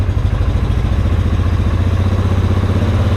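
A Polaris Sportsman 570 EPI ATV fitted with a clutch kit runs its engine hard and loud at close range, a steady, pulsing mid-pitched roar under full throttle that holds without letup.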